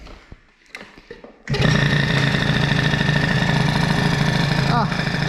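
Peugeot 103 moped with a boosted Doppler engine, started without choke after a few clicks and knocks, then catching and running loud and steady at a buzzing idle close by.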